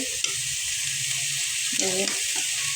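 Kalai greens and vegetables (cauliflower, potato, beans, cabbage, tomato) with prawns and salt sizzle steadily in a pan while being stirred, with a brief tonal sound near the end over the continuous hiss.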